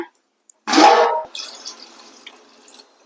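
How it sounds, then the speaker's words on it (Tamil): Water poured from a glass into a cooking pot of tomato rasam, a short splashing gush that quickly tapers into faint trickling and dripping, otherwise quiet. "2 கிளாஸ் தண்ணி ஊற்றிட்டு தக்காளி வேகட்டும்."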